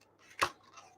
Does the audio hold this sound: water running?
no